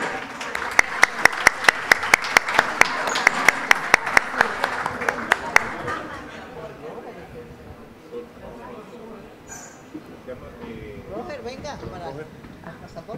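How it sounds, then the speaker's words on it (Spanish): Audience claps in sharp, regular beats for about six seconds at a business gala honoring the businesswoman of the year, then fades into murmuring crowd noise and speech. "Fuerte el aplauso."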